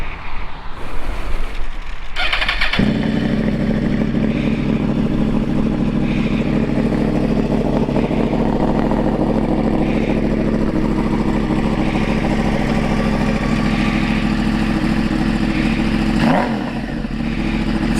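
A 2012 Yamaha R1 sport bike fires up after a brief clatter, then settles into a loud, steady, close-miked idle with a deep rumbling drone that holds for most of the clip before a short blip near the end.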